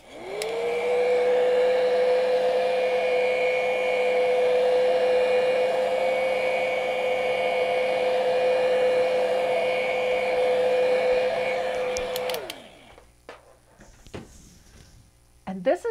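A hair dryer blowing steadily on acrylic paint for about twelve seconds, a loud, even whirring hum that winds down as it is switched off, followed by faint handling noises.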